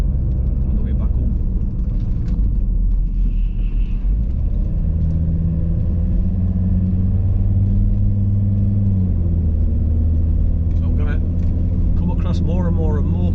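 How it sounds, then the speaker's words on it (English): Cars pass on a road in the morning, a continuous low rumble of traffic swelling and fading, with a person talking over it throughout. "More and more cars now."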